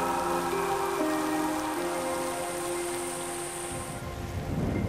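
Tropical rain arriving with warm northwesterly winds at the start of the wet season pours steadily on parched ground, a continuous dense wash with thunder-like low rumble, heard alone with no voices.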